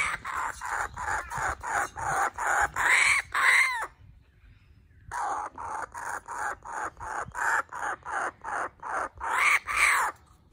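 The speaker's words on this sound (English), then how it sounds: "That's a nice kookaburra." Kookaburra calling close by, a long run of loud, rhythmic raucous bursts, a brief pause, then the laughing chorus picks up again at full strength.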